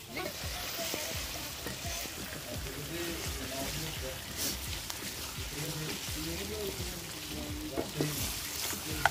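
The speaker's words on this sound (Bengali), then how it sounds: "হিরো স্টাইল করে রান্না নাড়া দিলেন একটা" An egg dish sizzles and fries in a pan on a clay stove, with spatula scrapes and stirring, steady and moderately close, while people talk over it.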